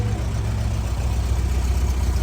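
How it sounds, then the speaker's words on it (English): A 1961 Porsche 356B engine idles steadily, a low continuous rumble close by with no revving. "the motor sounds really nice."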